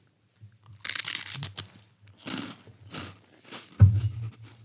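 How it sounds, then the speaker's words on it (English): Crunchy Italian garlic bread snack is bitten and chewed up close in a few sharp, dry crunching bursts separated by short pauses, with a soft thump near the end. "Just crunchy garlic bread."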